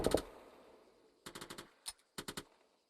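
GPMG machine gun fire in the Arma 3 video game, a loud close burst followed by pauses, then several short rapid bursts of four or five shots each, with no voices during the firing.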